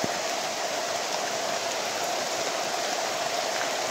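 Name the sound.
heavy rain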